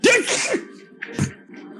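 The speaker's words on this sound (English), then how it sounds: "and you sneeze" A single close, loud human sneeze in a Dungeons & Dragons 5e one-shot, with a sharp gasping intake and then a forceful burst, with no talking around it.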